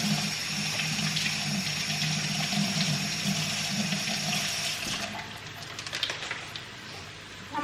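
Tap water runs steadily into a sink while green onions are rinsed, a continuous close rushing splash that eases off near the end, with no talking.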